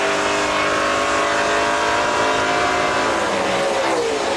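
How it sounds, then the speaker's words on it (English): A NASCAR Pinty's Series race car climbs through the gears at a road course, its engine roaring loud and close with a rising, buzzing pitch that holds steady throughout. "Grabs that fourth gear, and then it's just a long climb up through the RPM band."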